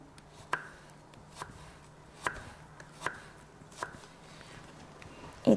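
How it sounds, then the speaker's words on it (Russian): A knife slices through half a cucumber on a cutting board, giving six or so crisp, close chops spaced about a second apart, with no talking. "разрезаем пополам и точно так же продолжаем нарезать не до конца."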